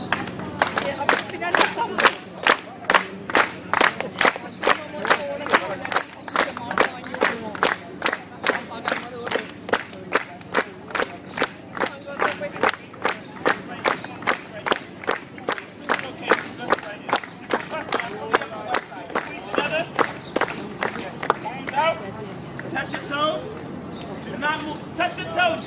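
Street-performance crowd at Battery Park clapping in unison, a loud, regular rhythmic beat of many hands that holds for most of the stretch, then loosens into scattered claps and cheering voices near the end.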